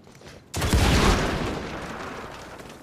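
Gunfire in the video game Evil West: a sudden loud burst of shots hits after a short quiet lead-in, then a dense rumbling blast decays slowly over a couple of seconds, with no talking.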